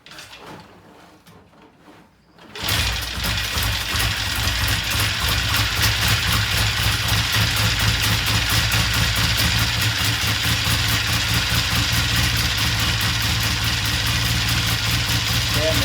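A small engine on a homemade bathtub vehicle starts up and settles into a loud, steady idle, its rapid even chugging continuing without a break.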